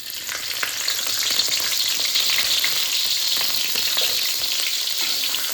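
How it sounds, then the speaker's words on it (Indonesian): Shrimp frying in hot oil in a home kitchen, a dense, steady crackling sizzle that fills the whole stretch at close range with no voices over it. "Sepertinya sudah panas. Waktunya kita goreng."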